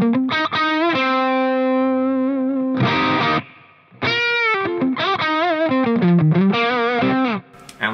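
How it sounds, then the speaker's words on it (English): An electric guitar played through a Boss Katana amp head with reverb gives distorted chords and sustained notes, then quick riffs with short gaps, loud and close with no voices. "I'll add a little bit of reverb to go with that now."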